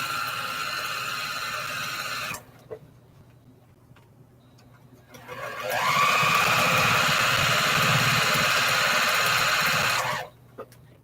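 A sewing machine stitching a quilt whirs in two loud runs with a near-silent pause between them. The second, longer run spins up, holds a steady rapid stitching drone, then stops abruptly.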